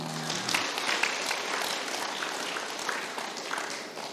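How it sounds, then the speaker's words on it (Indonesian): An audience at a religious gathering marking the Prophet's birth applauds, a soft, continuous wash of distant clapping that stays fairly even throughout, with faint voices underneath. "Tepuk tangan."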